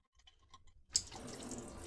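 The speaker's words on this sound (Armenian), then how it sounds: "ջուր եկող ծորակն է, հիմա կմիացնեմ" A kitchen sink tap in a new apartment is turned on near the one-second mark, and a steady stream of running water follows. Quieter clinks and faint sounds come just before it.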